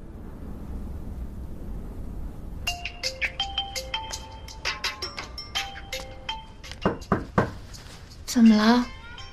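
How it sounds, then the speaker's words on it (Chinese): A mobile phone rings indoors with a tinkling melodic ringtone that begins after a few seconds of quiet room tone and repeats its bright note pattern, ending with a brief louder rustle. "您电话响了。"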